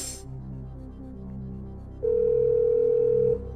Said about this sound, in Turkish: Telefonumuz çalıyor.